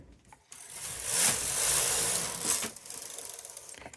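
A knitting machine carriage is pushed across the needle bed to knit one row, giving a close, loud, continuous mechanical rattle and whirr with a sharp click at the start and a lighter ratcheting clatter as it finishes.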